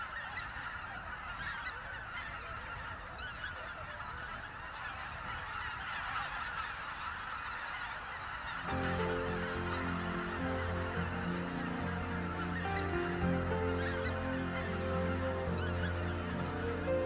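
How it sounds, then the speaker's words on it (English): Greater white-fronted geese honk at a lake in Hokkaido, Japan, a continuous chorus of many birds calling, growing denser and louder partway through. "As the geese return, one after another, and begin to fall asleep"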